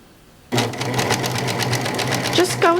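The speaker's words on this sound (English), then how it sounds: "I'm hoping I'll be able to sew this and show you" A serger sewing machine starts abruptly and stitches a ruffle onto a pillow with a steady, fast mechanical whir, close and loud; someone speaks briefly over it near the end.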